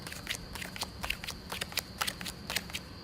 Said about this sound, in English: You start counting off the cards one at a time.